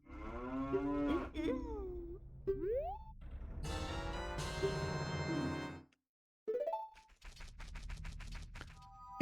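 A long, wavering cartoonish cow moo in The Legend of Zelda: Majora's Mask rises and falls amid bursts of bright game sound effects and rapid popping, loud and busy, with a short silent gap.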